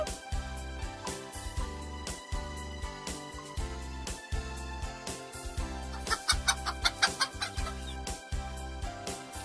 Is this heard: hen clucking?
yes